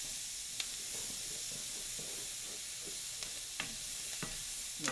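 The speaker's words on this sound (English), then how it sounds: "These onions are cooking fast" Onions frying in a pan: a steady sizzle and hiss runs throughout, with occasional sharp clicks and scrapes of stirring, close and moderately loud, with no talk.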